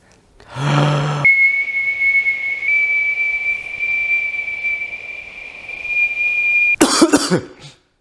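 A single long, steady whistled note held for several seconds, starting and ending with a burst of breathy coughing.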